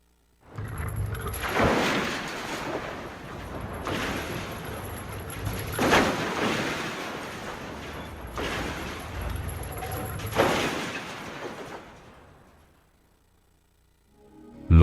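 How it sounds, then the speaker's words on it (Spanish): Dull heavy splashes and clanking, like chains and objects dropping into the sea, rolling in repeated surges over a murky rumble during the post-credits of Patapon 3, fading out near the end. "Los sonidos aparentan ser de cadenas y objetos cayendo en el mar."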